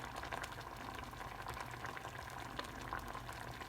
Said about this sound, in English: Now I'm gonna let it boil for a while.